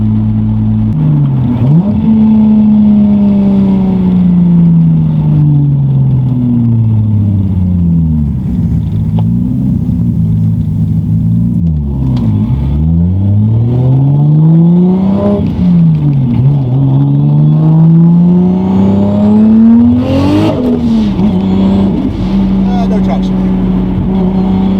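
A single-turbo Toyota Supra revs up and pulls hard through the gears from inside the cabin, its engine tone rising, dropping at each shift and climbing again, loud and droning throughout.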